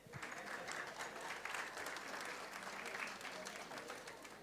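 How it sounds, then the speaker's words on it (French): Applause at a business award ceremony in Dakar, Senegal, an even, continuous clapping from an audience, faint and fairly distant. "Sous vos applaudissements"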